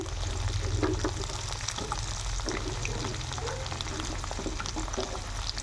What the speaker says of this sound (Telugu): మొత్తము ఫ్రై చేసుకోవాలి.